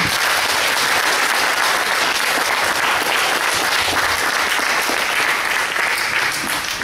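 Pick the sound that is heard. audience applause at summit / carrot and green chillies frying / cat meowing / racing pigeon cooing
audience applause at summit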